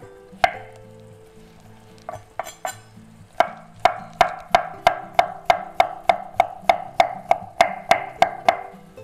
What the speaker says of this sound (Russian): Дальше мелко нарезаем маринованные огурчики